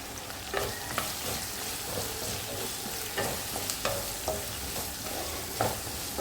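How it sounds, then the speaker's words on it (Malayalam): Ginger-garlic paste is stirred and sautéed in a hot pan, giving a steady close sizzle with scraping stirs and occasional soft clinks, and no talking. "അരച്ച് വെച്ചിരിക്കുന്ന ഇഞ്ചി വെളുത്തുള്ളി പേസ്റ്റ് ഇതിലേക്ക് ചേർത്ത് കൊടുത്ത് അതിൻ്റെ ഒരു പച്ച മണം മാറുന്നത് വരെ നമുക്കൊന്ന് നന്നായിട്ട് ഇളക്കി കൊടുക്കാം"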